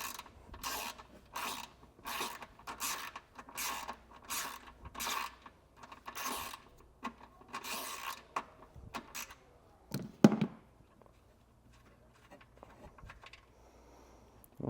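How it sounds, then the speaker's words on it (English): Wrench loosening a nut on a 2024 Chevrolet's trailer wiring during a Roadmaster diode kit install: a series of quick ratcheting clicks in short bursts, close and crisp, followed by a couple of metallic clinks and then quiet. "Then this nut, can remove it with a 10 millimeter."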